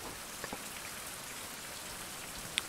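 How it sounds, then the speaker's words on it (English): Constant rainfall on a tropical island, an even, close wash of drops striking the ground and foliage, broken only by a sharp little tap near the end. "Of course it's raining."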